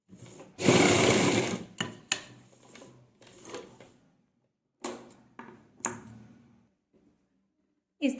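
Hand-guided sewing machine stitching kurta neck piping (patti) as a temporary basting seam, running in loud bursts of whirring, the longest near the start, then shorter runs separated by pauses.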